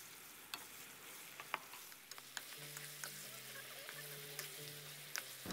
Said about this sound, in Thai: แล้วเราจะผัดให้สับปะรดของเราสุกเลยนะครับ